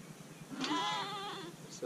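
A lamb on a sheep farm bleats once, a clear wavering cry close by that lasts about a second against quiet background, with a faint trace of another call at the end.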